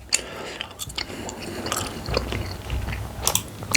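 Mastic tree resin being chewed close up, with a series of soft, moist bites and crunchy mouth clicks in an irregular rhythm and no talking.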